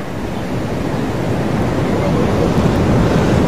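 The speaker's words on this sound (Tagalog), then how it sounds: "makikita nyo sa aking likuran na talaga namang nagngangalit na ang alo ng dagat." Rough sea churns on the coast of Aurora Province during a typhoon, a loud, constant roar of surf mixed with strong wind buffeting the microphone.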